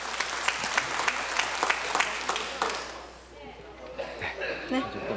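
A studio audience at a 1983 Korean TV broadcast reuniting separated families breaks into sustained applause, steady and full, which fades out as a few voices and scattered sounds follow.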